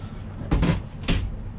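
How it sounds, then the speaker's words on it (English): A sliding door on a 2015 Grady-White 307 Freedom boat slides along its track and thuds shut, then a second sharp knock follows as it latches, close up in a quiet space. "Door that'll come across"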